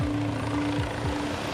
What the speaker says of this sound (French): l'hélicoptère du SAMU arrive enfin